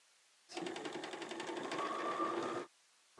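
A sewing machine runs through quilt fabric in one quick, even burst of stitching lasting about two seconds, close and clear, with quiet before and after.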